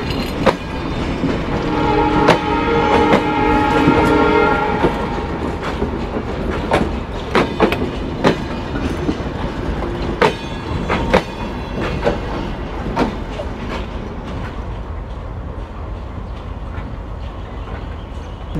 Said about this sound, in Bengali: খুলনা রেলওয়ে স্টেশনে 2 নম্বর প্ল্যাটফর্মে প্রবেশ করছে ট্রেন নাম্বার 727 আন্তনগর রূপসা এক্সপ্রেস